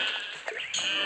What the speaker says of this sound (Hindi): लगता है कोई बकरी फंस गई है